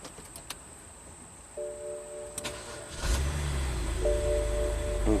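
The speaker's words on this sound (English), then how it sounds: "Try to start the car again." A car with a no-crank, no-communication fault after a rainstorm cranks briefly and fires up, then settles into a steady low engine rumble. Faint electronic tones sound before and after the start.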